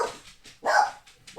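A dog barks indoors, a couple of sharp, fairly close barks spaced across a short moment, with no talking over them.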